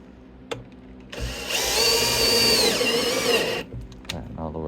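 A power drill drives a screw into a wooden tree swallow nest box in one steady burst of about two and a half seconds, close and loud, with small workshop clatter before and after.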